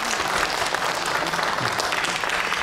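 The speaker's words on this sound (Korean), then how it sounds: "열심히 그리고 재미있게 노래해준 어린이들에게 다시 한번 큰 박수 부탁드립니다." An audience in a hall applauds a children's choir at a New Year children's song concert, dense continuous clapping throughout, steady and loud, with no voices rising above it.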